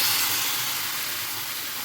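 Marinated meat sizzling as it goes into hot spiced oil in a home kitchen, a steady loud hiss of frying with no pause.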